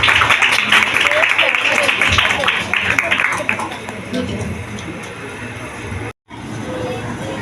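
Applause at a church Christmas celebration as Mrs. Wilson is welcomed to the front: dense, steady clapping from a gathered crowd that thins out about halfway through, with voices and room noise continuing underneath.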